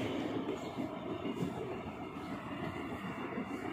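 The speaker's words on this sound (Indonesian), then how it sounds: "ada kereta lewat" A train rumbling past Hogupo station in Korea in spring at a steady pace, its continuous low clatter and roar filling the scene without any voices.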